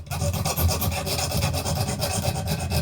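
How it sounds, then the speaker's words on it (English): Diamond file rasping steadily against a Colt 1878 revolver spring, a close, continuous scraping with even back-and-forth strokes and no talk. "I'm going to get in here with the diamond file."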